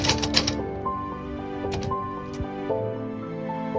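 Typewriter typing the Indonesian proclamation text, a few quick close key clacks at the start followed by scattered single strikes over a faint sustained tonal background, with no talk.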